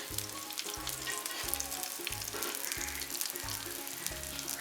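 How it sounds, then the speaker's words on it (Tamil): Tempering frying for a Jaffna-style dhal curry sizzles softly in a pan, a steady close hiss with a faint regular pulsing hum beneath it and no speech. "இப்படியே இருந்து பொரி பண்ணட்டும்."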